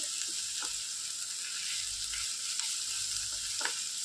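Onions frying in a pan for a Punjabi-style chicken curry give off a steady soft sizzle with a few faint stirring taps, fairly quiet and without speech.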